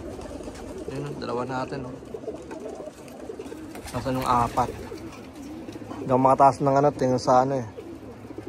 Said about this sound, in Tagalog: Alright, so ito yung mga ibon.